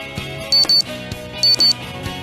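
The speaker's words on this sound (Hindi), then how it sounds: "उनकी ये कोठी अलार्म की आवाज से गूंज उठती है" An alarm clock ringing at 4:30 in the morning in a large house, sounding in two short pairs of sharp beeps over a background of steady music-like tones.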